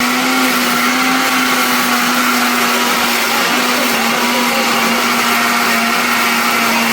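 A kitchen blender grinds ginger and garlic with cumin into chutney, a loud, steady motor whine with a constant pitch that runs unbroken throughout, close up.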